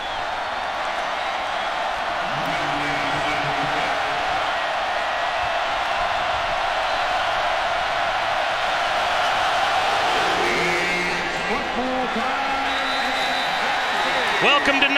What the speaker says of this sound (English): Crowd's lively.